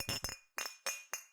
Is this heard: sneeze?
no